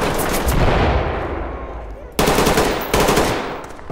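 Loud gunfire from a gun in the tactical shooter game Ready Or Not: a rolling, automatic-fire burst that fades out, followed by two sharp new volleys in quick succession.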